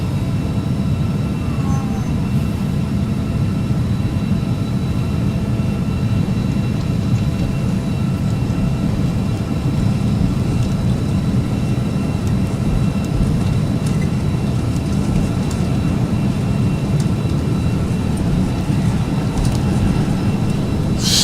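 A Carenado Falcon 50 jet takes off at full throttle in the Prepar3D flight simulator, producing a loud, steady, unbroken engine roar with a low rumble and a faint whine throughout.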